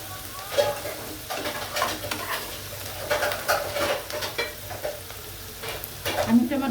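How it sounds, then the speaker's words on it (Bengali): Onions and potatoes fry in a pan for a fish do-pyaza, giving a steady close sizzle broken by frequent scraping stirs of a spatula and occasional clinks against the metal. "আলুটাও ভেজে নেব পেঁয়াজের সাথে"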